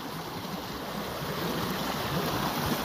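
Forest stream water flowing steadily while wild vegetables are washed in it outdoors, a continuous close broadband rush with no talking.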